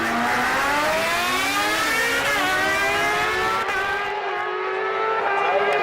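Drag-racing motorcycles, a 600 against a 750, at a national motorcycle drag meet: a loud, sustained high-pitched engine wail rising through gear changes as the bikes accelerate away, fading slightly near the end.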